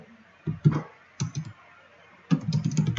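A computer keyboard is typed on while a Python program is entered into a new IDLE file: clustered bursts of clicky keystrokes with pauses between them, then a denser run near the end, close up with no talking.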